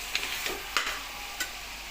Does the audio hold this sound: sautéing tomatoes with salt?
yes